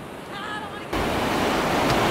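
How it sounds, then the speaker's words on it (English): Ocean waves break at a beach, heard as a broad, loud wash of surf that surges in abruptly after a quieter moment, with some wind rumble on the microphone. "We've arrived at the beach."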